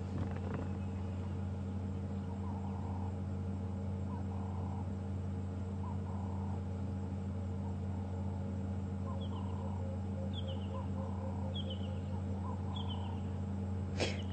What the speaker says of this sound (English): Now you might be hearing a bird in the background.